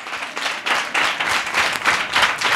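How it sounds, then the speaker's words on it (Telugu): A congregation at a church sermon claps together in sustained applause, a dense, steady patter of many hands that swells and stays loud for the whole moment with no talking over it. "just give big claps to Jesus"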